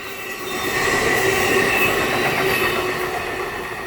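Amtrak train 55 rolling through North Philadelphia station, a steady loud rumble of wheels on rail with faint squeals, swelling in and holding close without speech.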